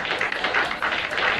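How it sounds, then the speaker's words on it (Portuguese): Audience clapping for a girl at a children's adventure event in Rio de Janeiro, a steady dense patter of many hands at moderate distance, continuous for the whole moment with a faint murmur beneath. "Palmas pra ela!"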